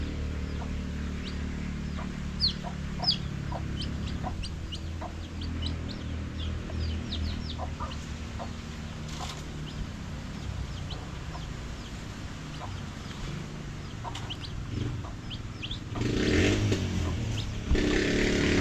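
Chickens and chicks cluck and peep in a farmyard, with short chirps scattered throughout over a steady low background hum, plus a brief louder shuffle near the end.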